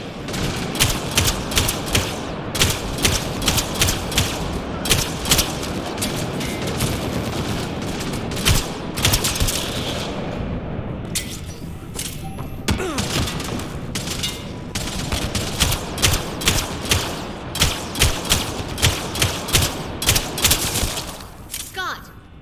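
Rapid bursts of gunfire in the video game Mass Effect Andromeda, loud volleys of sharp shots in quick succession with a brief lull midway, then renewed firing toward the end.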